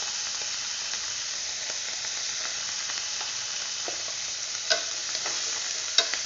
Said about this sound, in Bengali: হলুদটা ভালো করে মিশিয়ে নিচ্ছি।